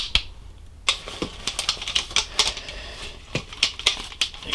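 The shock-corded legs of a Grand Trunk camp stool clacking into place give a quick series of a dozen or so sharp, close clicks and snaps, irregular in rhythm.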